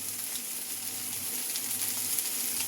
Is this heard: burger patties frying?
yes